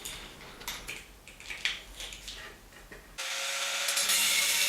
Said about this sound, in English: I will now start cutting out the shape of my pedal.